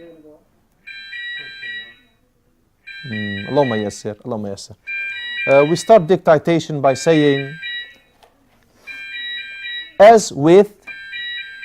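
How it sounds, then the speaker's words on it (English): A building alarm set off by builders sounds in repeated electronic beeping bursts lasting a few seconds each, sometimes alone and sometimes under someone talking. "builders set the alarm."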